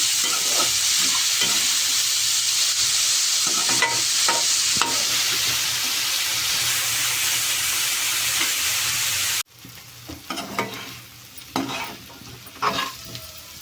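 Bitter gourd and dried fish pieces fry in a pan with a steady, loud sizzle that cuts off abruptly, followed by quieter crackling and scattered stirring scrapes.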